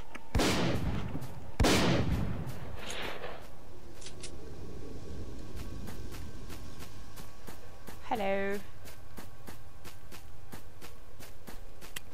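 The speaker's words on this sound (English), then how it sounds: "Somebody's shooting over" Gunfire in the video game S.T.A.L.K.E.R. Lost Alpha: a couple of loud booming shots early on, then faint distant cracks at intervals amid ambient noise and a brief rising tone.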